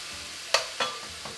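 Beef shawarma meat sears in a pan over very high heat as a second batch goes in, with a few sharp stirring scrapes and knocks over a soft, short sizzle.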